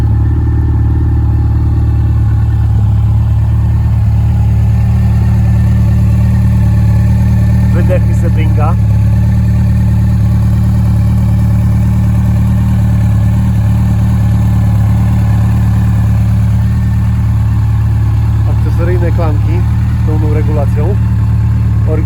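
A 2006 Yamaha FJR 1300 motorcycle engine idles with a steady low rumble throughout, close and loud, while someone talks intermittently over it.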